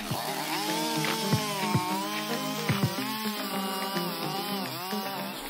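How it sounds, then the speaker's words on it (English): A Stihl MS500i chainsaw with a 40 cm bar cuts a tree, its engine droning steadily and close with pitch rising and falling as it bites into the wood, plus a few sharp knocks. "the style MS500i chainsaw with a 40 cm cutting bar has become his trusted friend in every job"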